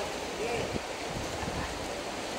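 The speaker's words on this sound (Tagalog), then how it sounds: "Malakas ng hangin." Strong wind by the sea during a storm, heard as a constant roar of wind buffeting the microphone mixed with the wash of waves. A voice speaks faintly underneath.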